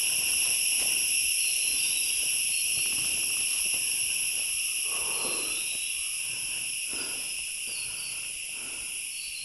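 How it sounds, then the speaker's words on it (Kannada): Dense forest on the Kurinjal peak trek in Kudremukha, Chikkamagaluru, filled with continuous high-pitched insect buzzing and chirring and faint rustles underneath, with no voices heard. "ದಟ್ಟ ಕಾಡು ಎಂಟ್ರಿ ಆದ್ವಿ ಇವಾಗ."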